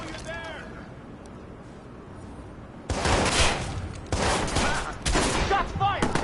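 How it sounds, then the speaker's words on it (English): Bursts of gunfire from the video game Watch Dogs, loud, dense volleys starting partway through and repeating in three or four heavy rounds, with game voices and music-like tones earlier. "Shots fired!"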